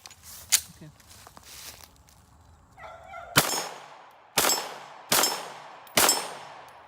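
A Glock pistol fitted with a folding Micro Roni stabilizer fires four sharp, loud shots at uneven intervals near the end, preceded by softer handling clatter and a faint metallic clink.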